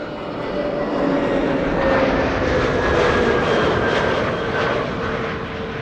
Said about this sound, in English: Play flight 460 arriving from Reykjavik in Iceland.